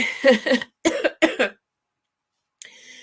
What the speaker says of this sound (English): apologies in advance if I'm coughing and spluttering